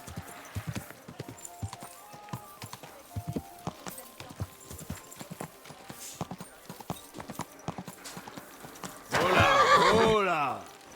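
A horse's hooves clip-clop steadily close by for most of the stretch, then a loud, drawn-out neigh rings out near the end.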